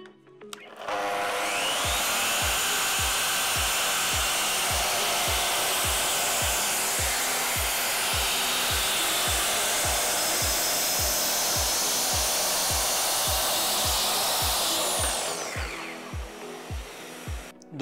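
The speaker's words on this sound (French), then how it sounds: "on va utiliser notre scie circulaire et son rail parallèle" A circular saw rips a long wooden strip along a parallel guide rail, a loud steady whine running for about fourteen seconds before spinning down, with a regular low thumping pulse beneath it throughout.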